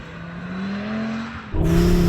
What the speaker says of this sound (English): when you stamp on the throttle, that rear differential does its job and really starts to drive the rear axle round